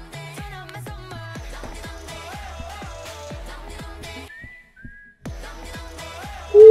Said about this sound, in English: You just got like a whistle.